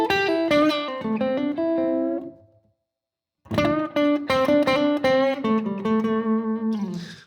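A slow blues lick in A on electric guitar: a quick run of plucked, bending notes that sustains and fades, a brief silence, then a longer phrase of picked notes ending on a held tone.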